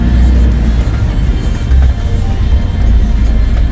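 Road traffic near Magallanes, with a loud, continuous rumble of passing vehicles up close and engine surges swelling and fading, and no talking.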